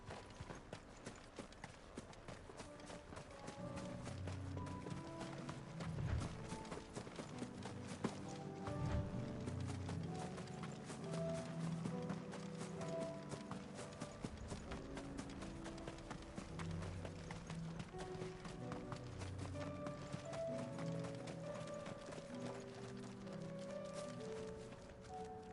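Horse hooves clip-clopping steadily while riding in the video game Final Fantasy XVI, a continuous fairly quiet trotting rhythm under soft background music throughout.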